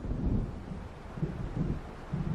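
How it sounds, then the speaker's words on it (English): Low, rolling thunder of a storm approaching over open water in the video game Alan Wake, a faint rumble that swells and fades in slow waves with no voices. "It seems there's a storm coming."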